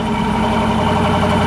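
A Dodge Durango RT with the center muffler removed, a straight pipe in its place and the rear resonators kept idles low with a steady, loud, continuous rumble and no voices.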